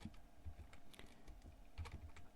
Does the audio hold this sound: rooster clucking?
no